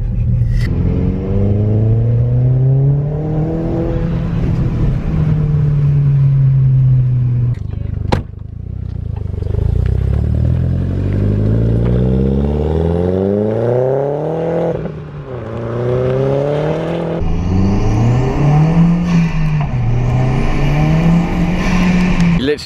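A Seat Leon Cupra R engine revs hard through rising and falling gears, loud and close, with a brief gap where the throttle drops before pulling again.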